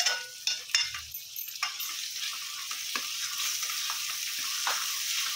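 Asafoetida dropped into hot oil for sambhar sizzles and crackles steadily at close range, with a few sharp clinks of a spoon against the pan early on and no voices.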